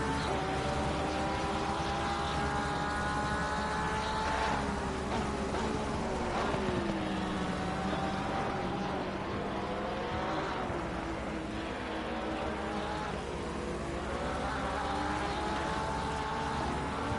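A Porsche race car at Imola in Assetto Corsa Competizione screams continuously, its engine pitch climbing and dropping through gear changes as it finishes a qualifying lap, loud and alone.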